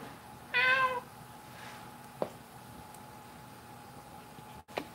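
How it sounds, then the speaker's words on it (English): A single cat meow, clear and fairly close, followed by quiet room tone with a couple of faint clicks. "What are you meowing about?"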